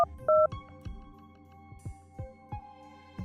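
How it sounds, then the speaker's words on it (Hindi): Telephone keypad tones beep in a short series with a few clicks as a number is dialed, quiet and alone, as a sound effect in a Hindi horror story. "उन्होंने कॉलेज फोन करके"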